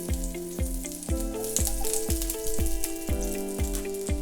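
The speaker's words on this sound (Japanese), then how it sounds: "2 tablespoons butter into frying pan." Two tablespoons of butter sizzling in a frying pan for crab miso pasta, a steady close frying hiss heard under rhythmic background music.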